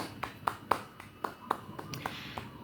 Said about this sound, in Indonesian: Beri tepuk tangan semuanya untuk Salwa